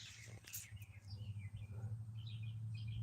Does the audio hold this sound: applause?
no